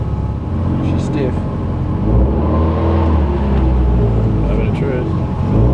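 A car with a short shifter, nicknamed the Carrot Rocket Ship, on its first drive: a low engine rumble that builds slightly as it pulls away, with people talking over it.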